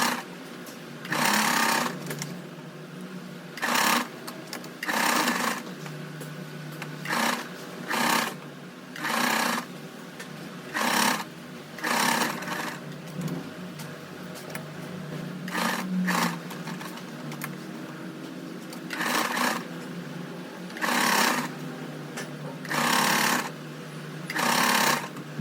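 Electric sewing machine stitching lace onto a kurti, running in repeated loud bursts of rapid whirring separated by short pauses, with no talking.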